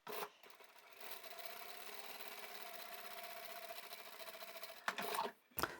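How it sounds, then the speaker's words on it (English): A sewing machine runs steadily while top stitching along the pressed top edge of a sling bag, a continuous close whirring hum that stops, followed by a few short mechanical clicks and handling sounds. "Go back to the top edge and we'll top stitch."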